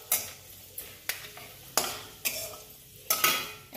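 Whole spices, dried red chillies, bay leaf, cardamom and cinnamon, sizzle in hot oil for a mutton curry while a spoon stirs them lightly, close scraping strokes about every half second over a soft crackle, with no voice.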